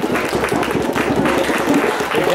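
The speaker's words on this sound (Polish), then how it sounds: "Wielkie brawa, prosimy, werble, wszystko." Festival crowd cheering and applauding a rock band's set at an outdoor music festival in Malbork, a dense, steady wash of clapping and crowd noise that holds throughout.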